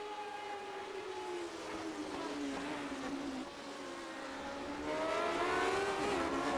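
A racing video game car engine holds a steady high whine through a hard banked left turn at Imola, the pitch sliding slightly as the car drifts, loud and continuous with no talk over it.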